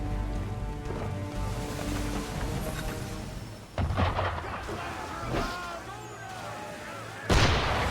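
Ship cannon fire from Assassin's Creed III, heavy booming blasts with rumbling, thunder-like decay over a background of wind and water, with several loud impacts spaced a few seconds apart and voices speaking in between.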